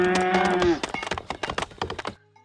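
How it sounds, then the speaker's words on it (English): Cattle mooing in the farming city-builder game Farthest Frontier: one long, loud moo with a steady low tone, followed by a run of short clicks and taps that fade into quiet. "Cows in there."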